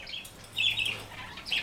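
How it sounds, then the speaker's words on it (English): Small birds chirping outdoors in short bright bursts, a few tweets spaced apart over a quiet background, moderately close. "I apologize for the birds. They're so loud."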